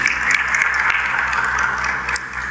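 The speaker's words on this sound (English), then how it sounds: "Please clap hands for him." An audience claps at a school orientation for incoming first-year students, with steady, dense applause filling the room from start to finish.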